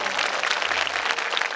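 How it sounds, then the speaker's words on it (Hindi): An audience at a Shrimad Bhagavat Katha religious discourse claps loudly and densely, a fast, continuous burst of applause close by with a faint voice underneath. "एक बार जोरदार ताली,"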